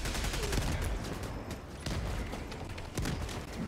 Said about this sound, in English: Auto cannon go brrrr.